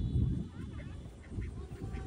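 A duck quacks faintly amid low, rumbling background noise during an Eid festival game where five girls try to catch it without seeing.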